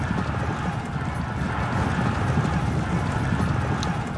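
Cavalry horses charging in the video game Pike and Shot: Campaigns, a dense, continuous drumming of hooves with occasional whinnies, loud and sustained throughout.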